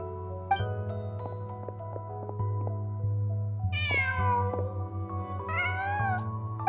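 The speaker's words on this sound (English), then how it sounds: "Just a cat." A cat in a video game lets out two drawn-out meows over a sustained musical score, both clear and close.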